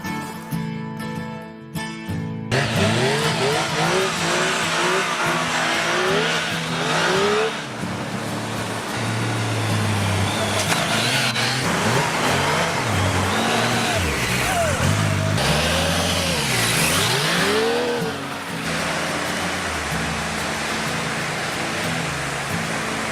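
A Triumph Tiger motorcycle engine revs repeatedly at a beach in the Andaman Islands, rising and falling in pitch with loud throttle blips, up close over wind noise.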